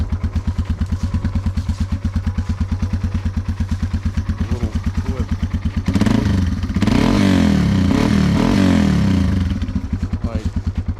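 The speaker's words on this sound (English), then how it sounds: "that's a pretty decent exhaust for a little 200cc bike" A Yamaha TW200 200cc motorcycle with a stock exhaust thumps at a steady idle, then revs up and settles back, loud and close, while someone speaks briefly over it.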